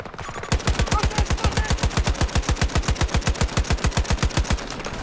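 Rapid automatic tap fire from an AK rifle in the shooter game Battlefield 2042, about forty close, loud, evenly spaced shots in a steady rattling rhythm lasting several seconds, with no talking over it.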